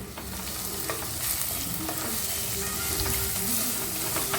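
Prawn masala with turmeric and salt being stirred in a clay pot over a low flame: a dense, continuous sizzle with soft scraping strokes of the spoon repeating every second or so, close up and unaccompanied by speech.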